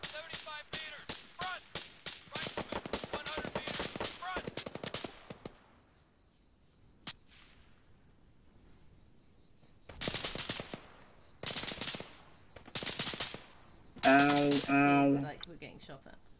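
Gunfire in the Arma video game, with rapid bursts of automatic shots in several clusters separated by quieter gaps, and people talking over parts of the action.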